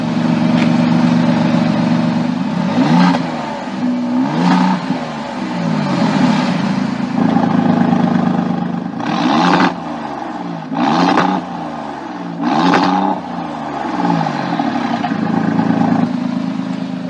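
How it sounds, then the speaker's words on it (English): An Alfa Romeo Giulia Quadrifoglio's six-cylinder engine, heard from the rear of the car, idles with a steady low rumble broken by several sharp throttle blips and revs, fairly close and loud. "we're going to hear a bit of the engine sound coming through"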